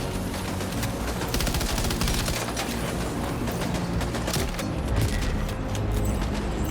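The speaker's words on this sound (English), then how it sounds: "Calling in the fire support." A fire support barrage in Death Stranding 2 pounds continuously with loud, dense rapid gunfire and mechanical clatter, a heavy unbroken volley with occasional booms.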